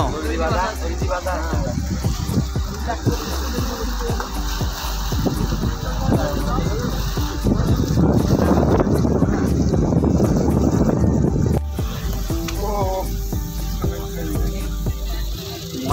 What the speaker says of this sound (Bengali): এই আমাদের লঞ্চ এত আসতে যাচ্ছে কেন?